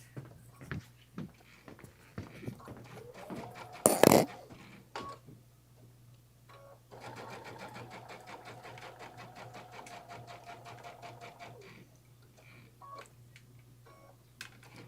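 A sewing machine stitches double-fold bias binding along the edge of a bag, with short bursts of rapid mechanical clatter, then a longer steady run of stitching, close and moderately loud.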